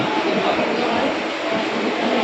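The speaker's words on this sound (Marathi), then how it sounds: "ही आमची ट्रेन आहे दुरंतो ट्रेन आत्ता सुटणार" Duronto express train, the 12283 Ernakulam–Nizamuddin, departing Panvel station, a dense steady rushing rumble of rail noise heard close by without pause.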